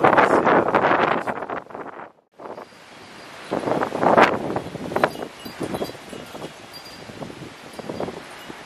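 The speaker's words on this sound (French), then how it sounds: "cette fois on a le retour du vent" Cyclone wind returns after the eye passes, roaring and buffeting in loud gusts that drop briefly to a near lull before surging back with rushing, rumbling force.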